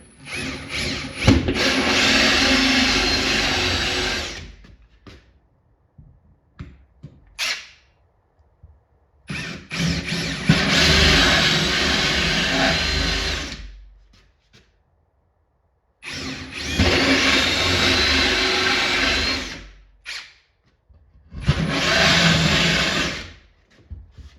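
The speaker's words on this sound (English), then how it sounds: "drill halfway through this side, flip the panel over and drill the other halfway through" A power drill bores through a wooden panel for a multicade cabinet build, in four long loud bursts of whining, grinding drilling separated by short pauses and small clicks.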